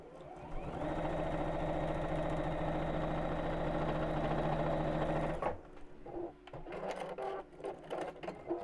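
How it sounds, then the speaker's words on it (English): A sewing machine runs steadily for about five seconds while top stitching fabric, then stops, followed by light handling clicks and rustles. "I'll just top stitch that in place."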